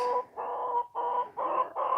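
An Australorp rooster gives a run of four or five loud, close clucks in quick succession, each a short throaty burst with brief pauses between.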